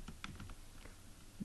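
Code is typed on a computer keyboard, producing a short run of soft, uneven key taps close by, muffled and low over a steady background hum, with no talk.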